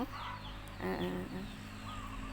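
Chickens clucking in cold weather, a brief, fairly faint burst of fowl calls over a steady background hum, with no one speaking.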